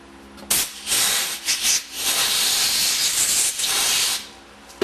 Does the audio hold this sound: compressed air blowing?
yes